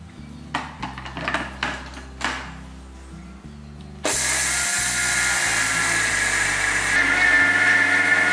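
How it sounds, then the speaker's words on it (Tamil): An electric mixer grinder jar whirs loudly and steadily as it powders rice for adhirasam, after a few clinks of the jar being handled and set in place, against a faint background hum. "மிக்சி ஜாரில் போட்டு பொடி பண்ணிடலாம்"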